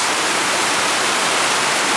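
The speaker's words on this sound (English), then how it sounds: "the rain, which you can see today is pouring down" Heavy rain pouring down outdoors, a loud dense unbroken hiss filling the whole scene with no distinct drops or pauses and no talk.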